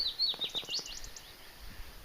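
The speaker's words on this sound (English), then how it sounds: "all the birds are singing again" Birds chirp outdoors on a quiet coastal walk, a quick run of faint, high tweets in the first second, then fading into soft background hush.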